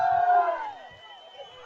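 Crowd at a political rally cheering and shouting, a loud swell of voices that fades after a second, with a few low thumps and noise beneath.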